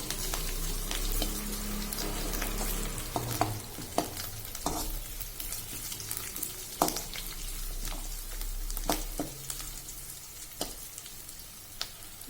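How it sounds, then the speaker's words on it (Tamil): Onions and cashew nuts sautéing in a pan for coconut rice, a soft steady sizzle punctuated by repeated sharp clicks and scrapes of a spoon stirring against the pan, with no talking. "முந்திரி பருப்பு சேர்த்து நல்லா வணக்கி விட்டுருங்க"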